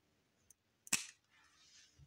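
A single sharp snip of scissors cutting through a towel, close and fairly quiet, followed by a soft rustle of the fabric being handled.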